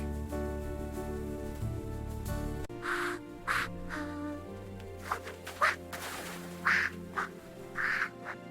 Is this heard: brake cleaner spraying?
no